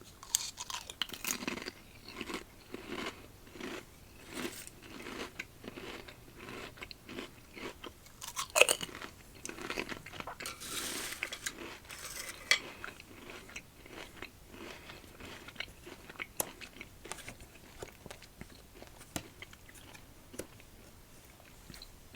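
Close, crisp crunching and chewing of Lay's Nashville fried chicken potato chips, in rapid repeated bites that slowly settle into softer chewing, with no talking.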